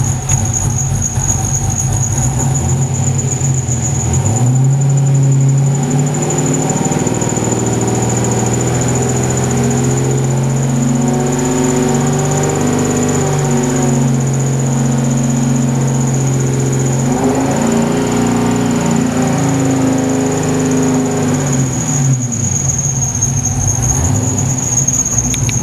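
Low, steady idle from an LS7 V8 in a Factory Five GTM kit car warming up, a continuous deep rumble with a persistent high whine or squeal running over it, loud and close, with no talking.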